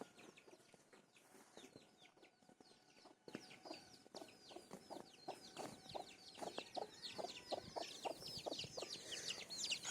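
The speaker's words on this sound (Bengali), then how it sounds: "এগুলো টাটকা দেশি মুরগি" Local deshi hens at a village home cluck and chatter continuously, many overlapping short calls that grow busier and louder toward the end, fairly near with soft background noise and no speech.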